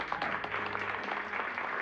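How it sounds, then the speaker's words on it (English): Applause from a small gathered crowd greets a film star at a party in the video game Immortality, a soft, even patter of clapping that carries on without a break. "Everyone, a big round of applause to our star, our gorgeous, la bellissima Marissa Marcel."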